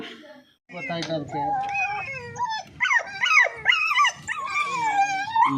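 A puppy trapped in a storm drain after heavy rain in Mysuru whimpers and whines nearby in high, wavering cries that rise and fall, with short yips between the longer wails.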